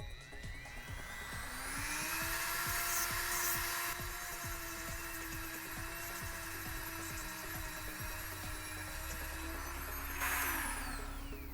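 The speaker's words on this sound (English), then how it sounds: "Now I'm going to use the Dremel just to smooth out those edges a little bit so they don't catch on anything." A Dremel rotary tool smooths the edges of a Boba Fett armor piece, a steady high whine running close and loud for several seconds, with a quick chattering of contact near the start and a brief surge near the end.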